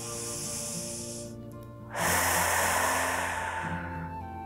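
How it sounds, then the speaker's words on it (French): Deep breathing during a yoga session, with a long, loud airy exhale or inhale swelling in the middle and fading slowly, set over a faint low background tone. "Écoutez le son de votre respiration et les vagues qui se forment"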